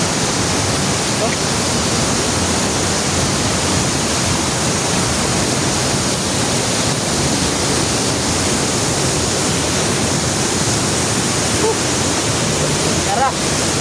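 A waterfall pours in a steady, dense roar of rushing water, close and unbroken throughout, with no clear voices above it.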